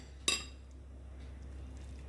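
A spoon strikes a bowl once with a sharp metallic clink while a mayo sandwich filling with cucumber and spicy green chutney is mixed. After the clink only faint background hum remains.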